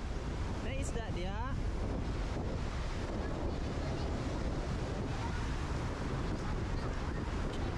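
Strong wind buffets the microphone along a seawall in Dumaguete City, Negros Oriental, Philippines, with steady roaring gusts and a wash of surf underneath. A brief high whistle cuts through near the start.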